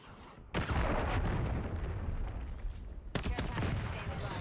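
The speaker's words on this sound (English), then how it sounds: "Hostiles launched a cruise missile." A cruise missile strike in Call of Duty lands as two heavy booming blasts, the first around half a second in and a sharper second one near three seconds, each followed by rumbling debris and scattered gunfire.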